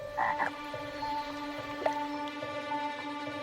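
A frog croaks in a steady, close chorus of repeated calls at a soft level, with no talk.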